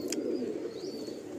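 Breeder pigeons in a home loft coo in a steady, low, throbbing murmur that fills the space continuously, close and moderately loud.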